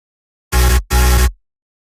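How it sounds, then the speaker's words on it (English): A single original vocal chop sample for melodic dubstep production, played as two short bursts of equal length, back to back with a tiny gap, loud and dry with nothing else around it. "A vocal chop"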